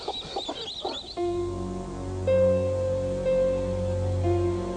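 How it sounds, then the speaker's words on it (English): Caged layer hens clucking and murmuring, with a steady low mechanical hum under them; the birds are near and fairly constant, and their calls swell slightly midway through. "The layer hens are kept crammed into these cages so tightly they can't even lift a wing."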